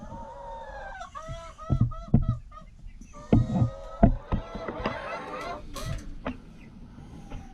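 Backyard chickens grown from chicks cluck and chatter in a coop, with scattered close clucks and squawks alongside a voice talking.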